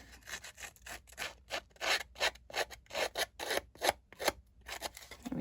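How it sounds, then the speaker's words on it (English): Scissors scrape repeatedly along a paper edge in quick, rhythmic rasping strokes, close and fairly quiet, about a dozen rubs with short pauses between. "just keep dragging those scissors along there."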